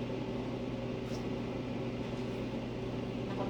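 Steady low hum of a microwave oven heating a dish of boiled beans, constant and moderately quiet with a faint whirring drone and no voices.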